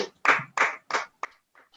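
An audience at a Modicare business session claps in four short, fairly loud bursts of applause, then a couple of fainter, briefer patters fade out. No talking is heard.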